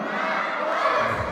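Guests at an Armenian christening party bellow a toast in unison, a loud massed cry of many voices lasting just over a second.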